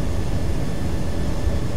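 A Boeing 757-200F jet rolls for takeoff in the Prepar3D flight simulator, its engines giving a steady, loud, broadband roar with heavy low rumble that holds constant throughout, with no voices over it.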